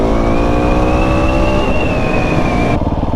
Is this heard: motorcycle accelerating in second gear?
yes